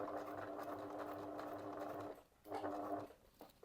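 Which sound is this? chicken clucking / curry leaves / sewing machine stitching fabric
sewing machine stitching fabric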